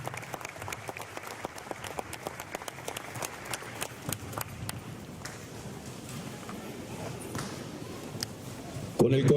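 Enthusiastic applause from a crowd at an outdoor anniversary ceremony in Villa Ángela, Argentina, dense steady clapping lasting several seconds that gradually thins toward the end.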